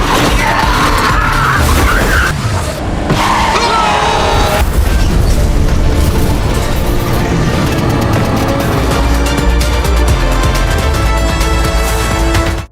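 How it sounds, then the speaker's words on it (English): Loud cinematic explosion booms amid crashing vehicles, with a dense roar of impacts, debris and distant yelling, sustained and intense. "Just like that, accompanied by this explosion, Yee-jae successfully got rid of the pursuit"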